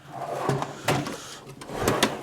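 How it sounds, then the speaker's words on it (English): Drawers on a Harbor Freight tool cart slide open and shut on freshly lubricated slides, giving several quick rolling swishes ending in light metallic clunks, close and clear with no talking. "You can tell I lubed up these slides now. They actually move a lot."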